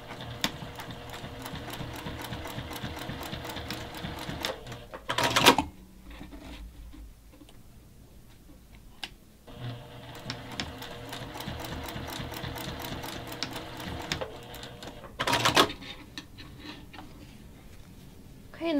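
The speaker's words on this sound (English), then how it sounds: "stitch the end of the strap down to conceal the raw edge" Sewing machine stitching down the end of a fabric strap, a fast steady mechanical whir in two long runs separated by a short pause and a brief louder clunk, close and with no speech.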